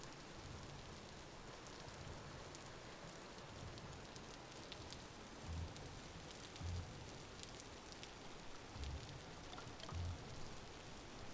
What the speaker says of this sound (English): Is that just the rain being heavier?